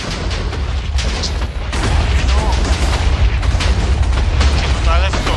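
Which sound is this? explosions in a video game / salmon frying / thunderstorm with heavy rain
explosions in a video game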